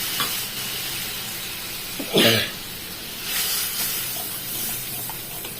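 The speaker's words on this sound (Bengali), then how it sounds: "ঝোল দিয়ে দিলাম" Gravy poured into a hot pan of fried katla fish for a malai curry gives a sudden loud hiss that settles into a steady bubbling sizzle, close up and without talk.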